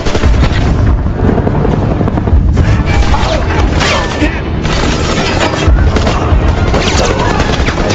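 A rescue helicopter in a Rambo film comes in while firing on a crew, and loud, sustained bursts of gunfire and heavy impacts ride over a constant rotor roar.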